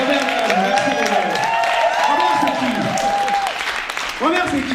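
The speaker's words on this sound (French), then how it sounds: "On peut l'applaudir, Robert." Audience at an open-stage show claps for actor Robert Villajean, with applause running under loud voices and cheering that dominate throughout.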